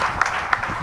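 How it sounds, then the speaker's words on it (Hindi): Scattered hand claps from an audience at a spiritual discourse, three or so sharp claps spaced evenly over a soft background murmur. "ताली तो लगा दो"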